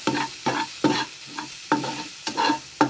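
A spatula repeatedly stirs ingredients sautéing in leftover fish-frying oil in a pan: about seven distinct scraping strokes over a steady close sizzle, with no voices.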